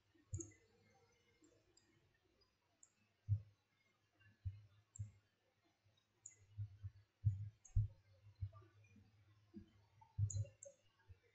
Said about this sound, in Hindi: मैं इस पे क्लिक करूंगा तो देखिए